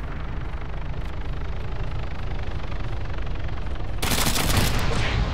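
Sustained automatic gunfire from the video game ArmA 3 on the Takistan map, a dense continuous rattle of shots with a louder, harsher burst in the final second.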